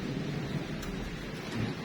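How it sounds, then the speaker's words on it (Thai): Steady rain falls in Phetchaburi, Thailand, a dense continuous wash of drops hitting surfaces, with low rumbling underneath, fairly loud and with no talking. "ตอนนี้ฝนก็ตกครับ เริ่มตกปล่อยๆแล้วครับ"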